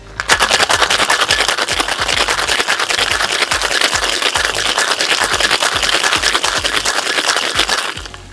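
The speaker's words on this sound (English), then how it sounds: "Add ice in your shaker and give it a good shake" Ice rattles hard inside a cocktail shaker in a fast, steady rhythm of loud clattering strokes that runs without pause for about eight seconds, with no voices.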